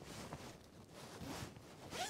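A full-length zipper on a fleece-lined hooded jacket is pulled closed, giving short close ratcheting rasps heard alone and fairly quietly.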